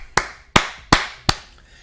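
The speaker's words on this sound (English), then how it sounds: "A round of applause," Four sharp hand claps spaced about a third of a second apart, close, loud and dry, with a quiet room in between and no voices.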